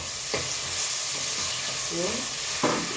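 Chopped carrots, peppers and small tomato pieces fry and are stirred in a pan, giving a steady close sizzle with occasional scraping strokes of the utensil.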